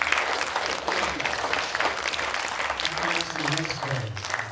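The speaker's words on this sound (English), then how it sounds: "Let's give our panelists a big round of applause." A crowd at an art center panel event gives sustained applause for the panelists, a thick, even wash of clapping, with some voices faintly underneath near the end.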